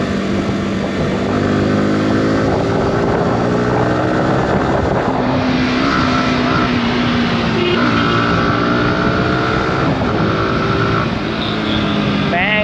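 A Yamaha R15 V4 motorcycle rides through city streets, heard close from the rider's seat with a loud, continuous engine drone, rising and falling revs through the gears, and steady wind rush.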